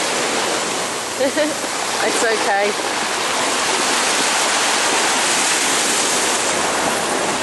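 Sea waves crash and roar nearby on the Lisbon coast in a constant wash of noise, with a brief spoken remark early on nearly buried beneath the surf.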